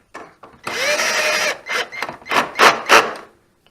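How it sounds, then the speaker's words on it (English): A power drill runs in short bursts while it snugs a bolt on a Polaris Scrambler 500 ATV: first a sustained whine of about a second, then several quick pulses, close and loud. "And get the drill."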